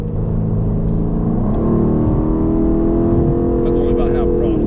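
New Aston Martin Vantage engine pulling at half throttle, a loud, steady in-cabin rumble climbing in pitch, with people talking over it.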